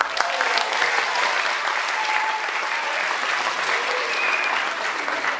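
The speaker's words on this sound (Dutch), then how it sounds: "Allemaal een gigantisch applaus voor jezelf." Sustained applause from an audience of parents and children at a school talent show celebrating a tenth anniversary, a dense steady clatter of many hands filling the room without a break.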